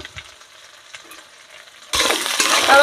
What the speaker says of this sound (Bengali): এই যে আমার মশলাটা প্রায় কষানো হয়ে গেছে।